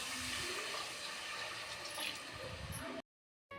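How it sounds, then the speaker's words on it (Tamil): Water being poured into a cooking pot for biryani, a steady splashing pour that runs for about three seconds and then cuts off abruptly. "இப்போ தண்ணி ஊற்றிக்கலாம்."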